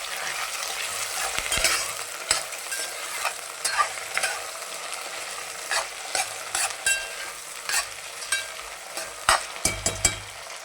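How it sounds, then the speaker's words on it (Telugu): Green chillies and curry leaves sizzle steadily as they fry in a pan, with a spoon stirring through them in scattered scraping knocks close by, and no talking. "దీన్ని ఒకసారి ఇలా బాగా కలిపేసుకుందాము."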